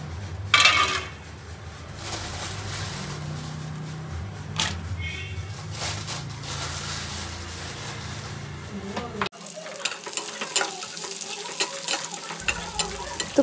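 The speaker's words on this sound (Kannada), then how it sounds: "ಫಸ್ಟು ದ್ರಾಕ್ಷಿ ಗೋಡಂಬಿ ಉಟ್ಕೊಳ್ಳೋಣ ಅಂತ ಸಪರೇಟ್ ತುಪ್ಪ ಹಾಕೊಂಡಿದ್ದೀನಿ." Cashews and raisins fry in ghee in a large pot for carrot halwa, a steady sizzle with spoon stirring and occasional clinks of metal utensils, fairly close.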